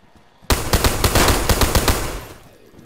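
Close, loud burst of rapid gunfire in the DayZ video game, roughly a dozen sharp shots fired in quick succession after a sudden start, then a short fading tail.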